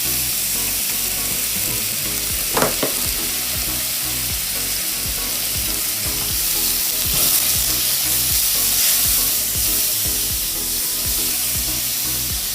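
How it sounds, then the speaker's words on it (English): Food frying in a pan for an udon salad, a steady close sizzle with a few brief louder crackles and spatters, and no talking. "We just want to fry this off."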